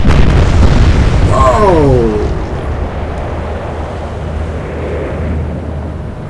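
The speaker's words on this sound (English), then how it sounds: "Huge explosion on the Hutton" Deep booming blast of a warship being hit in the naval combat game Atlantic Fleet, loud at the start and decaying into a low rumble, with a brief exclamation from a voice.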